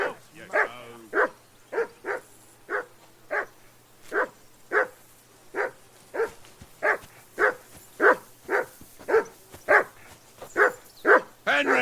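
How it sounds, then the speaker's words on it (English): A dog in Kingdom Come Deliverance 2 barks steadily, about twenty evenly spaced loud barks close by, with a faint low hum underneath and no talking. "That barking was a pain in the ass."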